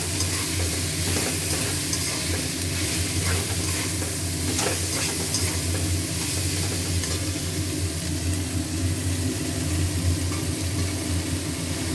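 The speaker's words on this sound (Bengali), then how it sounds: "এবারে আস্তে আস্তে কলাই সুটি আর বাঁধাকপিটা অল্প অল্প করে কষতে কষতে দেবো" Steady loud sizzle of peas and cabbage frying in spiced oil with potato, with stirring scrapes and crackle throughout, close and continuous.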